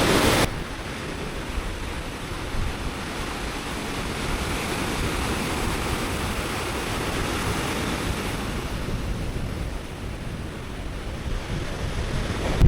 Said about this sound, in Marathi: बघा कशा प्रकारे समुद्र